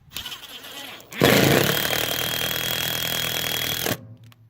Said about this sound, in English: this is only going into plywood, so we're just going to put in one of these wood screws